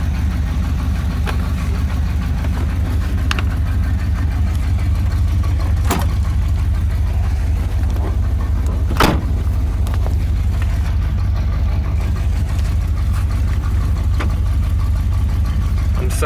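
A 1972 Corvette engine idles with a choke problem, a steady low loud rumble that sags down, broken by a few sharp knocks and clunks, with occasional speech nearby.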